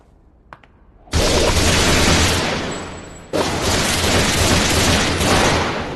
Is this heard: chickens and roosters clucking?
no